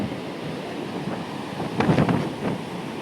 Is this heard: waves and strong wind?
yes